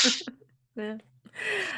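A person sneezing close by, with a sharp burst at the start and another breathy sneeze at the end, separated by a short voiced sound.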